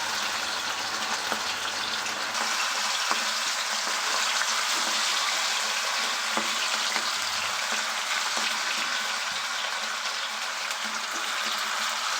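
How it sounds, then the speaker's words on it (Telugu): Chicken pakodi pieces sizzle and bubble steadily in hot oil, a continuous close frying hiss with occasional crackles and faint stirring, no voices. "ఆయిల్ కొంచెం బాగా కాగిన తర్వాత మనం ఇందులో కలిపి పెట్టుకున్న చికెన్ అయితే వేసుకుందాము"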